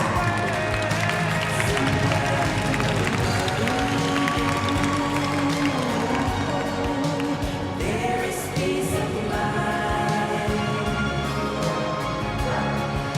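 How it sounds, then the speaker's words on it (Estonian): An indoor dog show crowd applauds the judge, a dense sustained clapping roar over music and a busy hall, with voices mixed in throughout. "ma palun teilt aplausi meie kohtunikule Antoaneta Penkova Bulgaariast"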